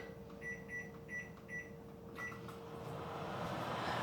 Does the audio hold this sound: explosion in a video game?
no